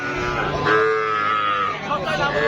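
A cow moos with a low, drawn-out call amid the murmur of a busy crowd at a cattle market, where a Sindhi-breed calf is on sale.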